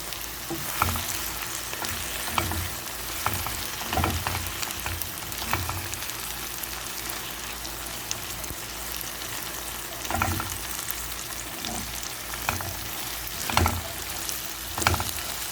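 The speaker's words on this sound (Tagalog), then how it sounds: "sorry guys, nag-iingay ang aking kalan" Beef mechado with tomato paste sizzles loudly in a pan on a noisy stove, a steady frying hiss broken by repeated sharp clatters of stirring.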